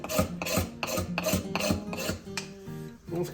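A straight edge or old chef knife scrapes old varnish off wood, a series of rhythmic rasping strokes about twice per second, close and fairly quiet, with a few brief scraping pauses and no speech.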